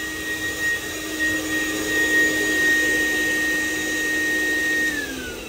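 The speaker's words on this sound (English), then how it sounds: "and we shut off the pump" Pond bead filter pump running while draining, a steady motor whine with a constant tonal hum that drops in pitch near the end as it winds down.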